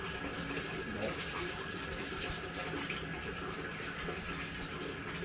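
A scale model is hand-sanded with 320 grit sandpaper, giving a quiet, close, steady rasping scrub with no clear pauses.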